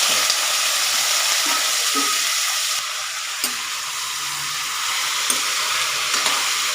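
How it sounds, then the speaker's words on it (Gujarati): Steady, bright sizzling of cumin seeds frying in hot oil, close up, with a few soft clinks of stirring. "તેલ એડ કરીશું આપણે એની અંદર જીરાનો વઘાર કરીશું"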